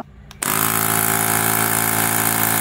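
A Qubo smart portable tyre inflator for car and bike switches on and runs, its compressor jumping to a loud, steady droning rattle that continues without pause, close by.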